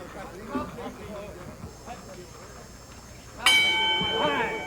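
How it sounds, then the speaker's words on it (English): A bright metallic boxing ring bell rings out sharply near the end with a ringing tail, after a stretch of muffled background chatter at a boxing match. "Bell sounds."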